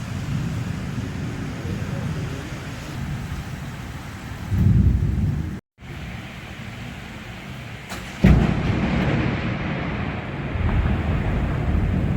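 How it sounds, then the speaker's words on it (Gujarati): Thunder rumbles low and continuous during a rainstorm in Malaysia, heard from indoors behind a closed window, with louder swells of deep rolling and a steady wash of rain throughout. "વીજળી તો થયા જ રાખે છે અને ગાજે પણ છે."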